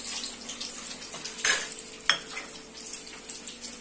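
Gul paneer balls frying in hot oil, a soft continuous sizzle with two sharper clinks of a utensil against the pan early on and smaller taps scattered throughout.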